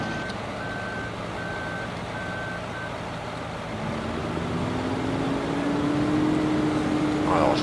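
A truck's reversing alarm beeps in an even, repeating rhythm over a steady engine drone in a farming video game, the beeping stopping partway through as the engine note rises and strains.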